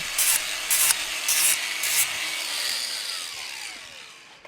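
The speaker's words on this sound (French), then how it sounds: "Nettoyez la coupe avec le disque à lamelles." A flap disc grinds and sands the freshly cut end of a flue pipe in several short bursts, then a longer steady rasp fades out; close, loud, no talking.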